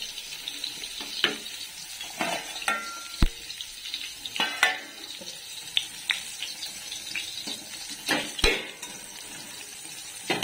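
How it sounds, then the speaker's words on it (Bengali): A few eggplant slices frying in a pan, with a soft sizzle under scattered clinks and scrapes of a utensil, heard close and fairly quiet. "এখন বেগুনটা ভেজে নিই ঝটপট আগে।"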